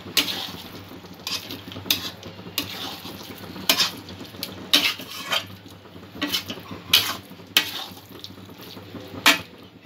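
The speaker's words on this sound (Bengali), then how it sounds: "ভালো করে মিক্স করে নেব সবকিছু।" Pointed gourd curry stirred in a pan with a metal utensil, giving repeated scraping clinks every second or so at close range, steady and moderately loud, with no talking.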